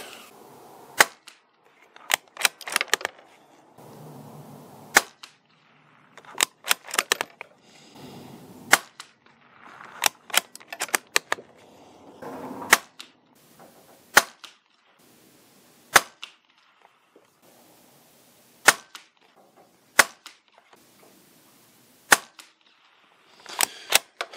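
A Bergara BMR bolt-action rifle fires Norma TAC 22 subsonic .22LR rounds: sharp, fairly quiet cracks spaced a few seconds apart, with clicks and clatter of bolt cycling between shots.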